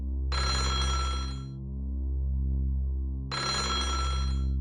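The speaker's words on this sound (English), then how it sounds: "The sound of ringing echoed through the spacious hall." An old telephone rings in a spacious hall in the horror video game Otogirisou, two loud bell-like bursts separated by a pause, heard alone.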